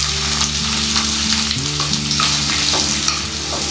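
Onion hitting sizzling butter in a pan for pav bhaji, a loud, continuous crackling fry with occasional stirring scrapes over a steady low hum.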